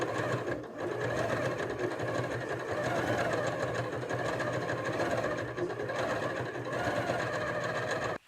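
A sewing machine stitches shirring on striped summer dress fabric in a fast, steady mechanical whir with a rapid needle rhythm, close and continuous until it stops abruptly at the end.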